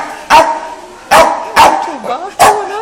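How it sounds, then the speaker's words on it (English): A dog at an animal sanctuary in the UK barks four times in sharp, loud, spaced bursts, with a brief whimpering yelp between them. "What are you barking at,"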